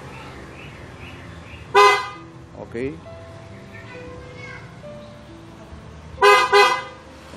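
Two short double chirps from a car horn as an aftermarket smart anti-theft system with hands-free locking secures the car, each a quick pair of bright toots separated by a few seconds, with someone speaking briefly between them.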